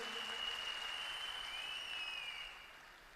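Audience applause for a production team at a leadership training seminar, a steady wash of clapping that holds evenly, then eases slightly toward the end, with a high whistle tone running through it.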